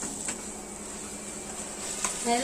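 Potato, onion and monsoon wild greens are stirred in a pan, soft scraping and a faint sizzle with a couple of sharper utensil clicks against the pan, close and quiet.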